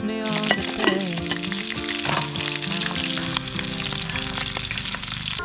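Pork belly fries loudly in a pan at a seaside campsite, a constant close sizzle and spatter, with music playing in the background.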